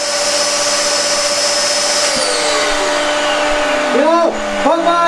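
Continuous loud mechanical whir of a Thor Filtration TF470 workshop air filter fan with steady tones, joined near the end by brief sweeping pitch shifts.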